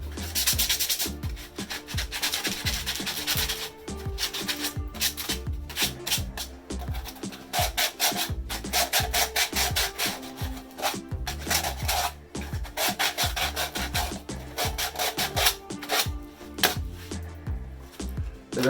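Sanding a PVC pipe by hand, a steady abrasive rasping with rapid back-and-forth strokes, close and fairly loud, running continuously with brief pauses and no talk.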